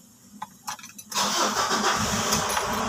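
A 2010 Ford Ranger engine is started after a manifold sensor repair: a few faint clicks, then the engine catches and settles into a steady, moderately loud idle close by.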